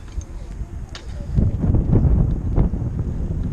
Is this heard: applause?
no